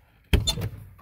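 A car door on a 2002 Chevy Trailblazer, heard as a single close thunk followed by a short rattling settle, then quiet.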